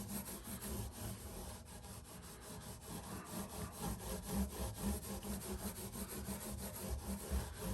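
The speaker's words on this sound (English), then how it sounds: "Then I'm going to take a piece of ultrafine Scotch-Brite before I clean and oil the fretboard." Ultrafine Scotch-Brite pad rubbed along the frets of an almost 40-year-old all-rosewood Takamine guitar, a soft, steady back-and-forth scrubbing heard close and quiet with no talk.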